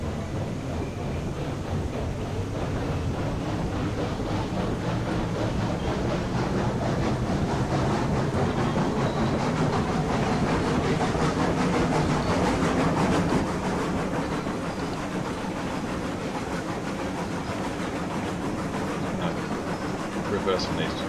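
A train in the Railroads Online game rumbles steadily along rails with a continuous low rolling drone and faint clatter, hauling loads between sawmill and oil field, unbroken throughout.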